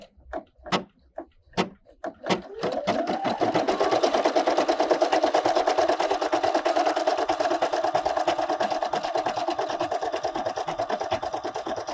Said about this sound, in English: now it should do some underlay stitches again